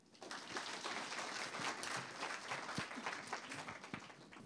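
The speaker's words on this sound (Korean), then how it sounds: "강연해 주신 서진근 교수님께 다시 한번 감사의 박수 드립니다." An audience at a mathematics society plenary lecture applauds steadily, many hands clapping together in a dense, even patter that fades slightly toward the end.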